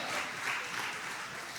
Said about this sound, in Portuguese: Aleluia! Dá aplaude aí ao Senhor.